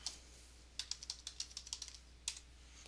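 Someone types a date on a computer keyboard, a quick burst of about a dozen crisp key clicks close by in a quiet room, followed by a single final keystroke.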